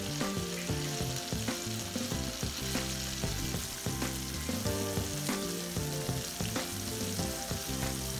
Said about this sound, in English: waiting on that fish to fry.